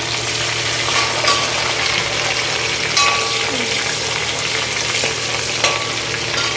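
Fennel seeds, curry leaves and ginger sizzle in hot oil for a crab curry, a steady close frying hiss broken by occasional clinks and scrapes as the pan is stirred.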